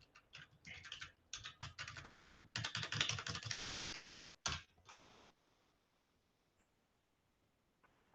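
Computer keyboard keys tapped in quick bursts as a Ctrl Z undo is entered during a programming lesson, with soft clicks close by and then a quiet room.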